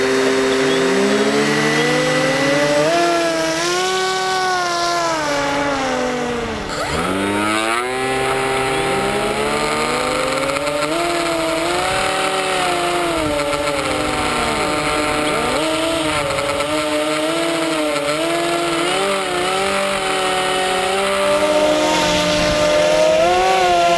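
An RC hovercraft's small engine buzzes loudly and continuously on a test ride, its pitch rising and falling with throttle changes and dipping sharply once before settling into a steady whine.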